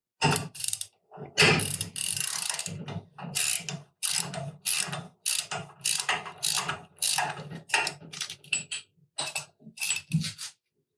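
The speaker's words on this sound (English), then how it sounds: "Using a 41mm socket, unthread the cartridge seal from the top of the housing." A ratchet drives a 41mm socket to unthread the cartridge seal from the top of a Grundfos CR pump housing, giving loud, close bursts of rapid metallic clicking separated by short pauses.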